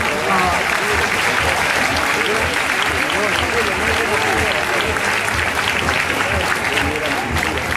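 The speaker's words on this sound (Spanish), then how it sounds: "Un fuerte aplauso, por" An audience at a fashion-week award ceremony in Peru breaks into loud, sustained applause, with dense clapping filling the room and voices mixed in underneath.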